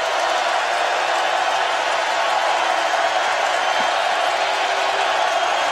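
A football stadium crowd cheers at a Tennessee versus Bowling Green game, forming a dense, steady roar that holds at an even, loud level for the whole stretch without distinct voices standing out.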